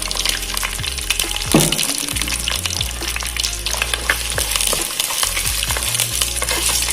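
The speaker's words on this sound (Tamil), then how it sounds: "நல்லா எண்ணெயில வதக்கிக்கலாம்" Garlic and small shallots sauté in hot oil for a Karuvadu kulambu, dried-fish curry, with a steady, close sizzle and repeated stirring scrapes against the pan.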